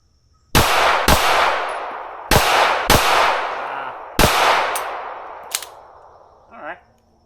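Rapid pairs of Glock 19 pistol shots crack out at an outdoor range, five sharp reports in quick doublets with ringing steel-target clangs trailing into a long echo and decay.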